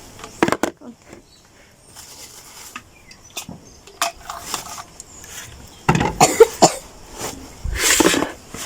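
Several sharp coughs in bursts, close by, with a background voice murmuring between them and a few light clinks.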